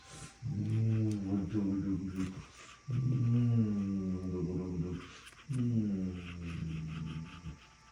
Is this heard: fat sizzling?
no